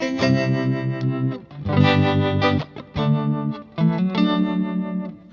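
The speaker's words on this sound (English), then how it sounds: "So this is the harmonic tremolo." A guitar played through a harmonic tremolo pedal gives sustained, distorted chords with a wavering, pulsing texture, played alone with short breaks between phrases.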